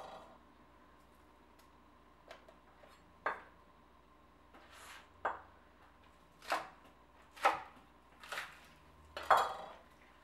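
A knife cuts vegetable stalks into 2-inch sections for spicy beef and vegetable soup, giving about eight distinct, irregularly spaced chops against a board, crisp and close over a quiet background, with no voices.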